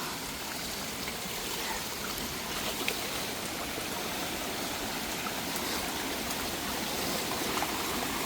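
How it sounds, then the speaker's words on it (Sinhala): River water flows steadily through a scenic stretch in Sri Lanka, a continuous broadband rush heard close and even throughout, with no speech. "දැන් ඔන්න වතුර පාරක් එක තමයි පල්ලෙහාට යන්න තියෙන්නේ"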